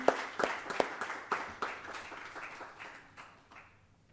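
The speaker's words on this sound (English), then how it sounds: "And a big applause for everyone." Scattered audience applause at a business forum briefing begins with a few distinct loud claps, then thins into quieter, sparser clapping that fades out over about four seconds.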